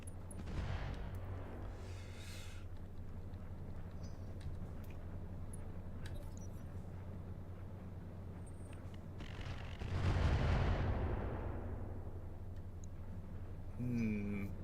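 In the mech combat game RogueTech, a BattleTech mod, LBX autocannon fire rumbles over a constant low engine drone, with a louder burst of booming shots swelling near the end amid other battle noise.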